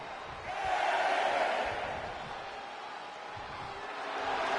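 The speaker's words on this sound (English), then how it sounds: "The crowd is behind Charlotte, and she knows it" A wrestling arena crowd in WWE 2K25 roars in a broad, sustained wash of cheering, swelling early, dipping, then rising again, with a commentator's voice faintly underneath.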